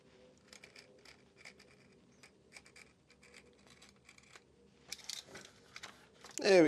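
Leather being cut for a handmade wallet: a quiet, close series of crisp snips and scrapes in an irregular rhythm, getting louder toward the end.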